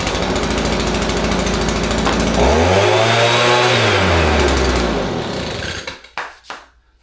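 A small gas Echo leaf blower, brought back from dead with a rebuilt carburetor, fires up on one pull and roars steadily at full throttle, close and loud, rising in pitch before cutting off into a few sputtering knocks.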